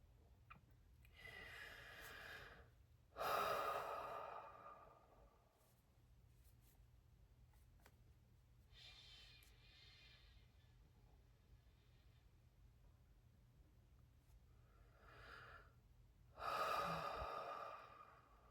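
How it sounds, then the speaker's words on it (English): Several slow, deep breaths taken close to the microphone, long airy inhales and exhales spaced apart over a quiet background hum. "let's take a couple of deep breaths here"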